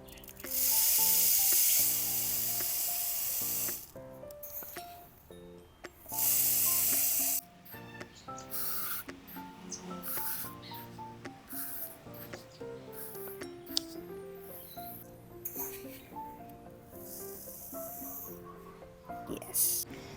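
Millet seeds poured into a lovebird cage feeder make two loud, steady hissing streams, followed by lighter scattered rattles amid bright, chirpy tones.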